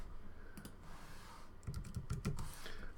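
Fingers type on a computer keyboard, giving a short burst of close, fairly quiet key clicks that quickens in the second half, with no talk.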